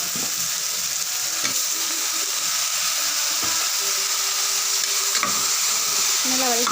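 Green chillies, onions and mutton sauté for a Madurai-style chilli mutton gravy, making a steady close sizzle with occasional scrapes and knocks of a spoon stirring the pan.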